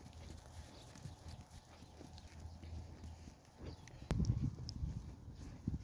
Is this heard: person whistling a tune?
no